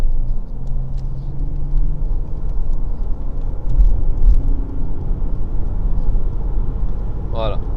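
Mercedes E320 CDI W210 diesel accelerating hard, a steady loud rumbling engine drone that keeps pulling without a break, heard from inside the car.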